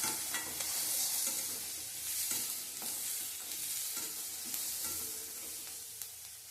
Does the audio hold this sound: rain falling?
no